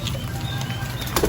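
Pigeons kept without a loft flap their wings in a brief rustling burst, close by and fairly loud, with faint bird sounds behind and no talking.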